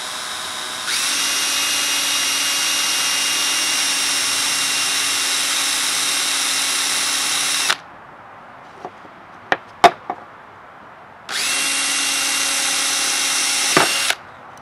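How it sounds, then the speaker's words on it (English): A power drill with a 1/4 inch bit drills holes in wood, whirring steadily for several seconds, stopping amid a few clicks and knocks, then running again in a second shorter burst. "take your drill with a 1/4 inch bit, and you're going to want to drill where you marked"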